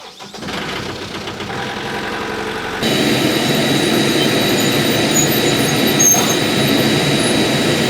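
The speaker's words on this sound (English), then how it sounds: "This is the belt loader. I'm gonna pull it up next to the aircraft." An airport belt loader's engine starts and settles into a loud, steady running drone, its pitch and level stepping up a few seconds in and holding constant, with no talking.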